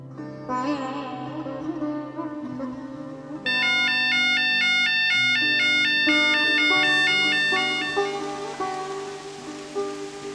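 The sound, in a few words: fish tank low water level alarm system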